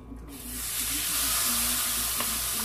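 A steak hits a hot frying pan and breaks into a loud, steady sizzle that swells within the first half second and holds as a close, continuous hiss.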